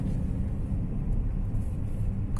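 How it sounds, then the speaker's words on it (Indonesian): A large truck passes slowly on a narrow road on the edge of Makassar, Sulawesi: a steady, loud low rumble of engine and road noise that holds evenly throughout, with no voices. "Wah, jalanan sempit, truknya besar lewat, jadi harus minggir dulu"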